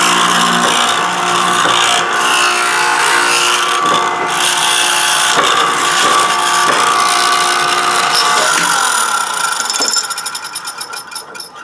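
A mortise being cut in wood with a power tool, a steady loud machine whine with repeated rough cutting passes for about ten seconds, then a rattling, pulsing wind-down at the end, with no talking.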